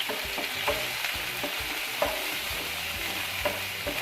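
Garlic, curry leaves and two large onions sauté in hot oil, making a constant sizzle with repeated rhythmic knocks and scrapes of a stirring spoon close by.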